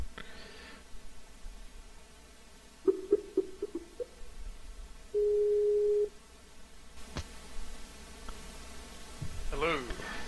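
A short run of electronic tones is followed by a sustained steady beep lasting about a second, with faint background noise and brief rustling.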